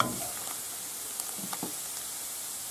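Hake in green sauce simmering in a pan with fish stock and flour, a steady soft sizzling hiss with faint bubbling pops, close and continuous.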